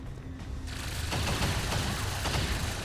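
Dense gunfire in the video game XCOM 2, a loud sustained barrage of rapid shots and impacts that builds after a brief lull and keeps going to the end, with no voices.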